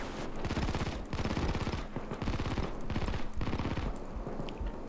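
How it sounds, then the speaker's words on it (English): Sustained automatic gunfire in the video game Payday 2, with continuous rapid rattling volleys broken by brief pauses, loud and dense against the game's background noise. "I'm shooting what I can when I'm down."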